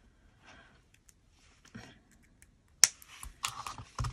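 Scissors trimming paper for a vintage-style art journal page: a few quiet handling rustles, then a sharp close snip followed by several crisp cutting clicks.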